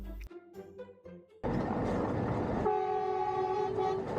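Snowdon Mountain Railway diesel locomotive heading downhill on a viaduct: quiet rhythmic clicking gives way to a loud steady engine roar and rumble, then a sustained horn blast layered over the running train.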